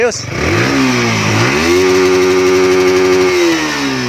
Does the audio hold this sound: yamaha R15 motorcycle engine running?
yes